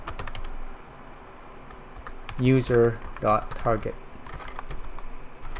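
Keys clatter on a computer keyboard in quick irregular taps, quiet in the background while someone speaks over them.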